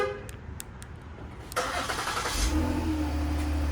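Ford Explorer Sport with a twin-turbo EcoBoost engine starting: an abrupt crank catches about halfway through, then settles into a steady, fairly loud idle heard up close with no talk.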